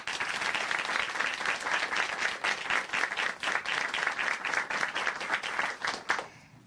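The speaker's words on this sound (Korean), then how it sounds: "이경육 형제님께 다시 한번 박수 부탁드립니다" A church congregation applauds at the close of a testimony segment on a Korean Christian TV program. The sustained, dense, loud clapping from a full room continues steadily, then fades out in the final moments.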